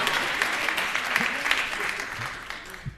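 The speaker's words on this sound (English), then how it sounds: "Yes, please clap." Dense, steady applause from a conference audience at the Harvard Kennedy School Black Policy Conference, a continuous wash of many hands clapping close and loud for the full three seconds, with no voice over it.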